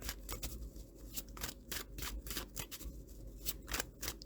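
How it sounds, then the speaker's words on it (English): Tarot cards shuffled and pulled from the deck: a string of quick crisp riffles and snaps, close and fairly quiet, repeating irregularly over a soft low rumble with no talking. "Let me pull some cards for potential"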